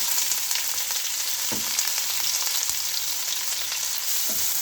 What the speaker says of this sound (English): So can we add the onions, please?